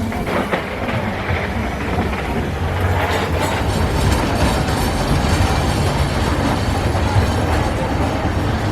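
A Tub Twist fairground ride, a classic Virginia reel at Joyland, runs with a steady, loud, rumbling clatter and rattle that continues unbroken throughout.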